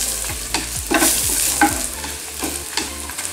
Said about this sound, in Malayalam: ഇതിലേക്ക് 1 സ്പൂൺ ഉലുവാപ്പൊടി എടുത്ത് വെച്ചിരുന്ന കൂടെ ഇട്ട് കൊടുക്കാം. നന്നായിട്ട് ഇളക്കുക.